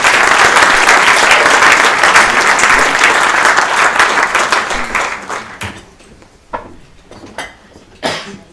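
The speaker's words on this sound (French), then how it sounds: "On peut les applaudir, merci à tous les gens." Audience applause fills a round-table event on employer engagement, loud and dense for about five seconds, then thinning into scattered claps and a few late bursts.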